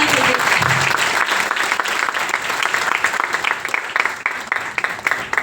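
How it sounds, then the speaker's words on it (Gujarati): An audience at a company business-plan presentation claps together in loud, dense applause that thins toward the end into a few separate claps, with no voices over it. "તો જબરદસ્ત આપણી કંપની માટે એકવાર જોરદાર જબરદસ્ત તાળી થઈ ગઈ"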